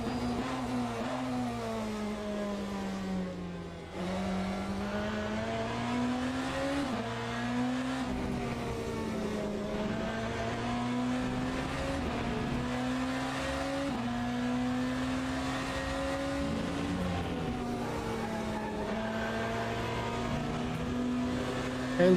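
BMW race car in the racing game Le Mans Ultimate driving a lap, with a steady engine drone that repeatedly rises through the revs and drops at gear changes, loud and continuous throughout.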